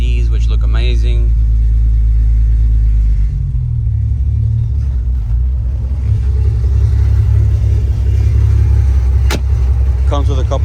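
Engine and exhaust of a 1993 Porsche 911 RWB widebody built in Japan, a loud, steady deep rumble running the whole time, with brief voices near the start.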